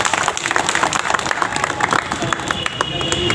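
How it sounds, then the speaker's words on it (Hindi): An audience claps together at a flag-hoisting gathering in a tribal students' hostel. The dense, steady applause fills the whole stretch, with crowd voices mixed in. "चलिए ताली बजाने के लिए।"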